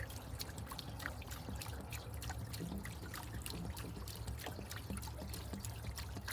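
Water trickles and splashes steadily in a continuous stream as a camper trailer's water heater is drained, with dense gurgling and dribbling throughout, fairly close and unbroken.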